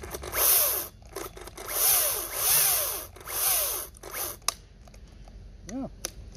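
A Makita electric chainsaw cuts through wood in four or five close, loud bursts of high whining motor and cutting noise separated by short pauses, with brief clicks at the end.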